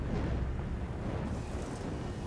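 Fire roaring in the sci-fi survival horror game Alien Isolation, a steady, dense low rumble with crackling texture that holds at an even, fairly loud level throughout without pauses.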